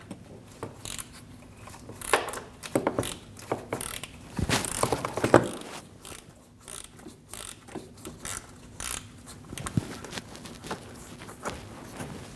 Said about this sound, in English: Using a T30 bit, we're going to remove the bottom screws for the radiator fan.